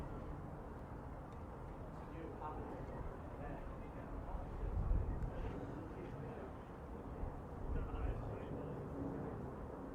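A low, continuous rumble of an airplane passing high over Hammersmith Bridge in London at night, swelling slightly midway, with people talking over it.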